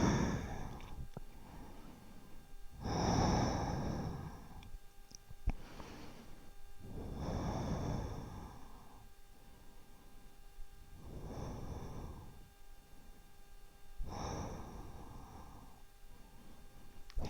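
Slow yoga breathing held during a seated twist: soft, airy inhales and exhales follow one another at a steady, unhurried pace, close and quiet, with no talking.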